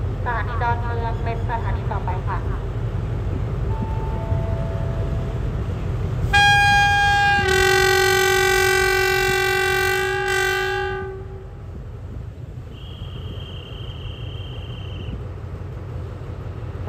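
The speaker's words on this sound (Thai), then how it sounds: "ได้เวลาปล่อย ขบวนรถธรรมดาขบวนที่201" Ordinary passenger train 201 departing Bang Sue junction station in Bangkok: a loud sustained multi-tone horn blast over rumbling engine and rail noise, followed by a shorter high toot, with talk nearby.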